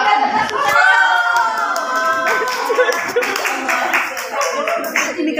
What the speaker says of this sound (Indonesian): Tepuk tangan Mbak Winda.